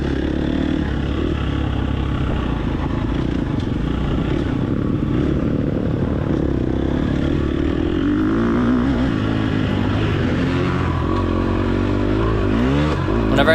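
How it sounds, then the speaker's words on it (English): A race car engine in the TORCS racing simulator, driving a wooded track, drones steadily and loudly throughout, its pitch climbing in rising revs toward the end as it accelerates out of a corner. No one speaks. "Whenever I hear that engine rev after a corner, that makes me happy."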